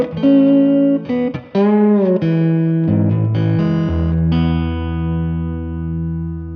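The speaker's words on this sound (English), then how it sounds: "so I'm going to add a bit of reverb" Electric guitar chords and bends ring through a Strymon Flint reverb pedal set to its 60s mode with controls near noon. Notes are loud and close, and the final chord decays into a lush reverb tail. No one speaks.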